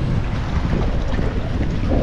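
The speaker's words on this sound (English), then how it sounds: "It's crazy windy out of the north," A strong north wind buffets a boat out on saltwater ahead of a cold front, producing a loud, steady roar of wind noise over the microphone with constant low rumbling and no voices.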